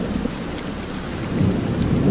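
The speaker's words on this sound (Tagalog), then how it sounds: "lakas po ng ulan sa labas" Heavy rain pours steadily outside during a storm, with deep thunder rumbling beneath the dense hiss of falling water, growing slightly louder toward the end, and no voices.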